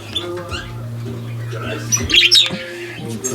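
Parrots in a cold aviary chirp and tweet close by over a steady low hum, with a brighter burst of chirping near the end.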